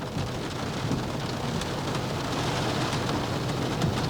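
Rain falling on a Kia Stinger Meister 2.5T AWD, heard from inside the car as a dense, steady patter and hiss drumming on the body and glass, constant and fairly loud with no voices.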